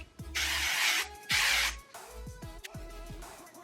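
An aerosol can of texturizing hair spray hisses in two long bursts close by, each about half a second to a second long, followed by softer rubbing and handling noises as the hair is styled.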